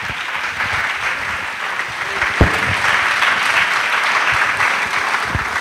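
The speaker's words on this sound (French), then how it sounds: "Acclamation." A crowd at a national missionaries' annual retreat in Côte d'Ivoire breaks into sustained applause and acclamation, steady clapping carrying throughout with a few sharper claps standing out.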